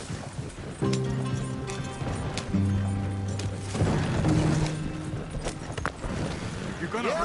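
Horse hooves clop in the video game Red Dead Redemption 2, a steady rhythmic clatter with creaking tack and a low rumble, heard alongside sustained musical tones and someone talking.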